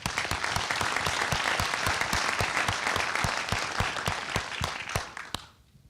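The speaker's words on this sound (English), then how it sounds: "give everyone here a round of applause" Audience applause at a steering committee gathering fills the clip with dense, sustained clapping that fades out near the end, with no talk over it.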